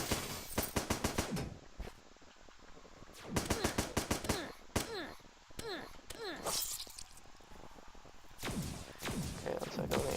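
Repeated gunfire in the game Starbound: quick bursts of sharp electronic shots come in clusters, with short pauses between volleys, fairly quiet overall.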